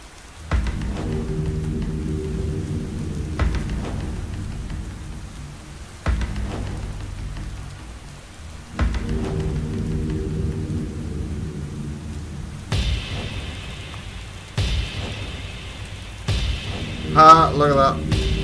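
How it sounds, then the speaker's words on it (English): Rain and rolling thunder from the video game The Stanley Parable play as steady low rumbles, with repeated thunder swells, a brighter hissing rain texture later and some higher synthetic tones near the end. "Is that the sound of rain? It's the sound of rain."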